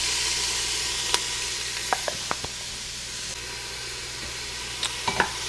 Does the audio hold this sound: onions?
yes